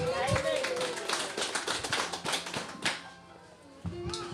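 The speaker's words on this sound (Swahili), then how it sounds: "Makofi mazuri kwa Yesu." A church congregation claps in quick rhythmic bursts for about three seconds, fairly close, with voices mixed in, then a brief lull before a few more claps.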